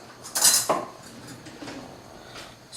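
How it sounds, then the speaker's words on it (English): A spoon stirs dry blueberry muffin ingredients, including salt and baking powder, in a bowl, giving a couple of close clinks and scrapes near the start, then soft, faint rustling. "stir our dry ingredients,"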